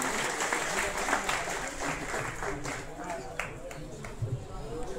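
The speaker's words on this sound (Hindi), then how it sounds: "तालियां बजाएं एक बार सभी उपस्थित।" Villagers at a welcome ceremony in Nimoth village applaud together, a broad burst of many hands clapping that fades gradually, with voices mixed in.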